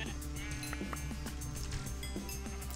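Minecraft sheep bleat repeatedly in short, nasal calls over a steady background of game sounds and clinks, with no speech.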